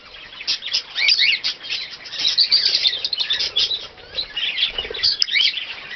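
Budgies chirp and twitter continuously as they work grass seed heads with feet and beaks, a busy, close chatter of high, overlapping calls with occasional wing flutters and no talking.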